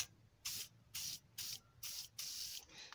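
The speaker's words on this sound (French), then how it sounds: "Mais pour l'instant, je vais dégripper un petit peu." Penetrating oil sprayed from an aerosol can onto a seized brake bolt on a BMW 3 Series, five short hissing bursts in a steady rhythm with brief pauses between, close and fairly quiet.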